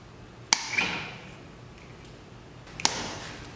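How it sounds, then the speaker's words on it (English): Wire cutters snipping through the wires of an old light switch wired in steel boxes and conduit: two sharp, close metallic clips a couple of seconds apart in a quiet room. "Let's cut off the old switch."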